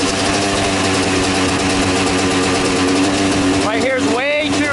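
Yamaha YZ250 two-stroke dirt bike engine fitted with a smart carburetor and jetted far too rich, running with a thick, uneven buzz and rising then dipping revs near the end, recorded up close.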